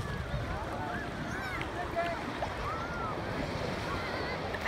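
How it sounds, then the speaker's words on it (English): Ocean waves at a beach heard while standing in the water, a steady wash of surf with wind rushing across the microphone, fairly faint and continuous, with a person talking at times. "So, we are in the ocean here."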